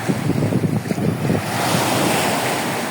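Tumiis Falls, also called Alabat Falls, rushes as a loud, steady roar of falling water, with blustery wind noise against the microphone at the start.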